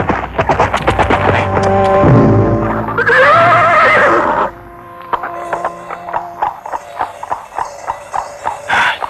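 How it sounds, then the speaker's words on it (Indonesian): Horses ridden at speed along a path, heard as a horse's neigh and whinny over music, followed by a steady run of clip-clop hoofbeats close by. "Hai, perlambat lari kuda kita."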